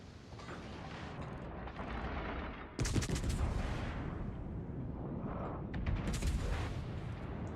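Naval gunfire in World of Warships Legends on PlayStation 5: heavy booming salvos and rumbling blasts, loud and continuous, with a sharp crack partway through and later bursts over dense battle noise, no talking.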